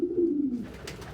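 Pet bird, likely a dove or pigeon, gives a low, close cooing call for about half a second, then fades into quiet room noise.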